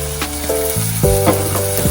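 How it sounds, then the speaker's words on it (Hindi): Finely chopped tomatoes sauté in a hot pan, giving a steady loud sizzle and frying hiss with light stirring scrapes, heard alone at close range. "और इसे भी हम अच्छे से सॉटे करेंगे"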